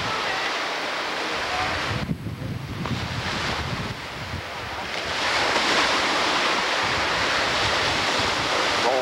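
Waves wash against the Lake Superior shore as a continuous, broad roar with heavy wind buffeting the microphone, swelling louder in the second half.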